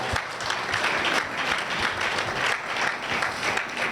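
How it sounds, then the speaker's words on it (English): Sustained audience applause fills a hall at the Lagos State heads of parastatals and agencies retreat: dense, even clapping from many hands, loud and unbroken throughout. "A round of applause to PMO"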